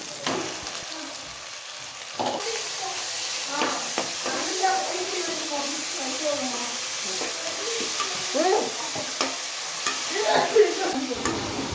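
Minced mutton keema sautés with onion, ginger and garlic for a vermicelli biryani, giving a close sizzle and stirring scrapes, with a voice speaking over the cooking at times.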